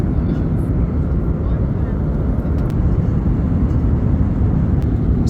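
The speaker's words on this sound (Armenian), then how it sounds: "Ավիաընկերության ինքնաթիռը" Airline airplane cabin, a loud steady low roar of jet engines filling the whole stretch, with faint clinks on top.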